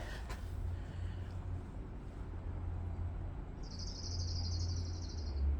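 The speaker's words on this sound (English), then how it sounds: "I don't know if you can hear that pretty bird." A bird sings outdoors on a walk in Ketchikan, Alaska: one high, steady warbling phrase in the middle distance, faint over a low traffic-like rumble and ambient outdoor noise.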